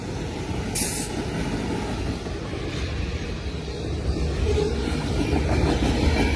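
A 175-car freight train, locomotive #186, rolls past at Pine Orchard, Ontario, a loud, close, continuous rumble and clatter of rail cars with a brief high hiss near the start and no voices.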